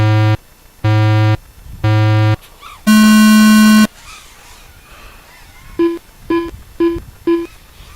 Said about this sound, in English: you show me those thumbs, I'll give you those beeps